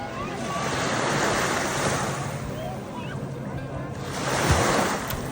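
Ocean waves wash onto a Sicilian beach with a continuous roaring surf, a swell near the end, and wind buffeting the microphone close by.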